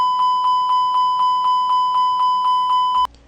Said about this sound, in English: The continuous repetitive chime sounds.